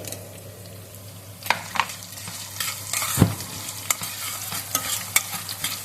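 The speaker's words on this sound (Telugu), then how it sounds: "ఒక్క నిమిషం దీన్ని ఇలా వేగనిద్దామండి." Onion, ginger and green chilli frying in a pan for Andhra-style poha upma, a steady close sizzle broken by several sharp spatula scrapes and taps against the pan, with no talk.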